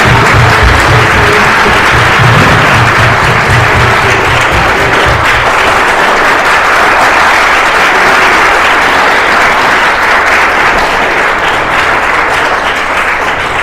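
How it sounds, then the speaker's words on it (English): An audience at a seudat hodaya, a thanksgiving meal, breaks into loud, sustained applause, a dense wash of clapping that holds steady throughout with no talk over it. "so big round of applause"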